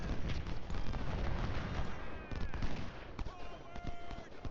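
Gunfire in Ultimate General: Civil War, a dense rumbling spread of distant musket volleys and crackling shots with occasional sharper reports, going on throughout under game ambience.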